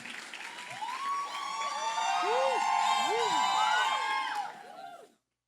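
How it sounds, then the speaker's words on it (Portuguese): Church audience at a youth service applauds and cheers, a swelling wash of clapping with whoops and shouted voices over it, holding steady before fading out abruptly near the end. "A salva de palmas aí para eles"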